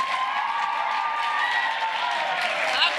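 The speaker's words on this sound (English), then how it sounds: "Give them all a huge round of applause." Audience applause and cheering for the finalists on stage at the Shannon Region Junior Chef of the Year 2024 event: dense, steady crowd noise filling the room throughout, with some voices mixed in.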